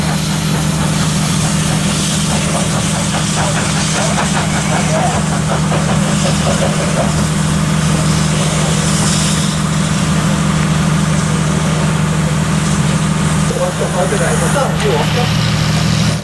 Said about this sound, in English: Y112, masquerading as her original number, Y419, is the oldest operational locomotive in Victoria and the oldest mainline engine in the country